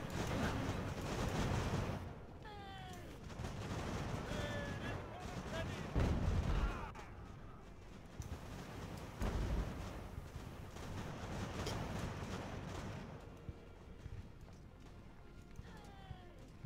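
Artillery fire on a land battlefield in Ultimate Admiral: Age of Sail, with deep booming shots at irregular intervals amid rattling distant musketry and battle noise, moderately loud.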